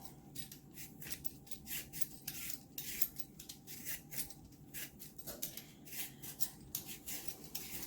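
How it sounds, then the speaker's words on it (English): Sweet potatoes being peeled with a hand peeler, a steady run of quick scraping strokes repeating close by at a moderate level, with no talking. "Sweet potatoes are definitely not my favorite thing to peel."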